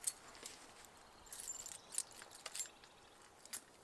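A bunch of keys jingles in short, faint metallic rattles spread across a few seconds, set against a quiet room hiss.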